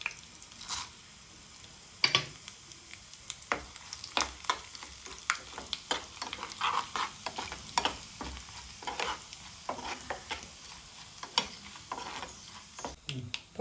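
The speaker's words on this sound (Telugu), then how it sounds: "ఇప్పుడు తాలింపు గింజలు వేసుకుని" Mustard-type tempering seeds crackle and pop in hot oil with dried red chillies and garlic for a country cucumber pickle: a steady sizzle broken by many sharp, irregular snaps, close and fairly quiet, with no voices.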